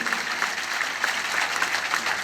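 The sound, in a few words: audience applause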